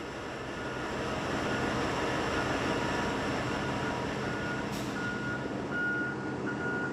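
A Caterpillar 797 mining dump truck backs up with a massive steady engine roar dominating, while faint, evenly spaced reversing beeps emerge in the second half, distant and partly masked.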